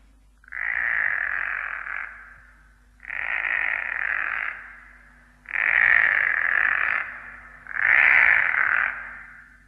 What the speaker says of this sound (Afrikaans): Die een wat nou kom, klink baie na 'n padda.